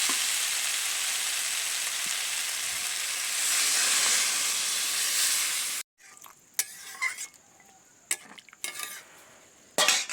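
Mixed winter vegetables fry in a pan with a loud, steady sizzling hiss for several seconds, which then cuts away to quieter spoon scrapes and clinks against the pan.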